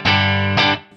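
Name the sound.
Line 6 HX One / Helix Dynamic Ambience reverb on guitar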